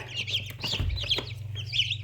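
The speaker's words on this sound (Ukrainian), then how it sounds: "Ого, це в нас виводиться Ломан Браун." Newly hatched Lohmann Brown chicks peep from inside an incubator, repeated high chirps over a low steady hum from the machine, close and moderately loud.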